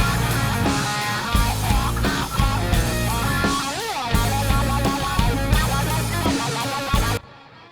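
An electric guitar run through a reverse delay effect in Pro Tools plays dense, swelling notes that blur into each other, loud and continuous before cutting off sharply near the end.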